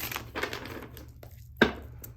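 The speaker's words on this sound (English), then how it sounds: "But I'm shuffling everything on camera today" Stiff tarot cards being shuffled by hand, giving a few soft crinkling riffles and then one sharp, louder snap of cards near the end, heard up close with no talking.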